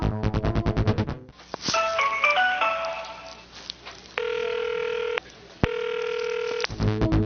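A phone call to a singer's former management agency: a burst of rapid dialing beeps and a jumble of tones, then two long, steady electronic ringback tones separated by a short gap, with the call going unanswered.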